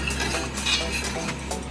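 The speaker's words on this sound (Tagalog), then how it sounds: "haluin lang po natin ang ating solution" A utensil stirs salt into a tie-dye solution in a container, a run of close clinks and scrapes against the sides over a low steady background, with no voices.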